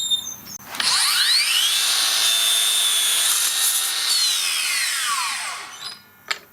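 Makita LS002G 40V cordless 216mm mitre saw slicing through a hardwood 4x2, a single loud cut where the motor spins up, whines steadily through the timber for about five seconds, then winds down, followed by a brief clatter.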